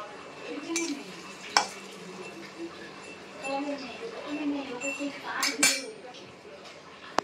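Bay leaves sizzle softly in hot ghee in a pan as a spoon stirs, with occasional metallic clinks against the pan and someone talking throughout.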